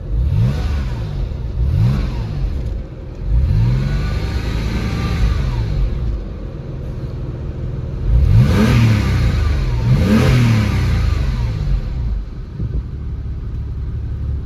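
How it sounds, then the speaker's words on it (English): A 2001 Porsche 911's rear-mounted engine rumbles and revs repeatedly, with rising and falling pitch sweeps as the throttle is blipped, loud and close throughout. "I love that rumble of that engine in the back."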